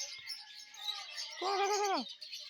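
A chicken at a zoo in Russia gives one drawn-out call over a constant, dense chirping of other birds in the background.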